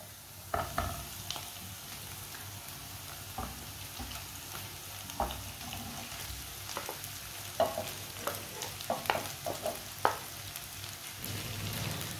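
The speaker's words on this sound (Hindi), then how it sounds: "इसके लिए हमने 2-3 मिनट के लिए इसे भून लेना है" Spice masala mixed with onion, carrot and cabbage fries in a pan while being stirred: a steady sizzle underneath, with scattered clinks and scrapes of a spoon against the pan and no talking.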